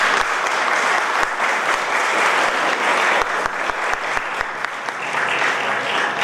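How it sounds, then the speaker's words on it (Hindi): A crowd of wedding guests applauds in a steady, continuous wash of clapping, with a few sharper individual claps standing out near the middle and end. "जो से ताली बजाएंगे।"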